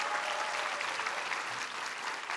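An audience at a university town hall breaks into steady applause, a dense, continuous patter of many hands clapping at an even loudness with no single voice above it.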